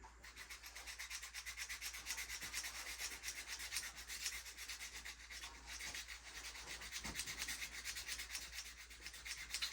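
Steady, close rubbing of a new, coarse knife-sharpening stone being flattened, a continuous gritty back-and-forth scrubbing that runs the whole time without pause or talk.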